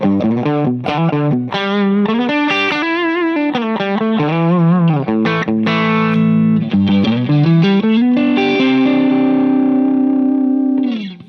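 An overdriven electric guitar amp at edge-of-breakup plays a run of notes and chords with a gritty, crunchy edge, ending on a sustained chord that rings out.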